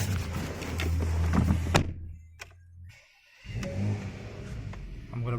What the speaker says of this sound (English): Have to start the car up.